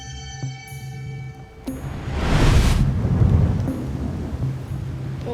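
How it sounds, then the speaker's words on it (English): Thunder rumbles up from a quiet outdoor background into a broad, loud, rolling roar lasting a few seconds, then slowly subsides into a steady low rumble, with no voices. "Oh, can you hear that thunder?"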